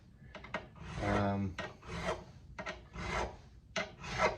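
A metal file rasps back and forth in steady strokes up and down guitar frets, leveling them, each scrape rough and close, with short pauses between passes.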